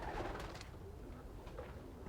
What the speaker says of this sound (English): Let's see this Hall of Fame bird fly.